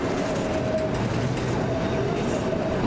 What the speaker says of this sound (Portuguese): O trem ele veio subindo desde Perdões, agora ele vai descer até a cidade de Canaverde.